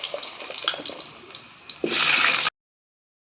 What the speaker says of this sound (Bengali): এই যে আলুগুলো দিয়ে দিলাম, আলুগুলো হালকা করে ভেজে নেব।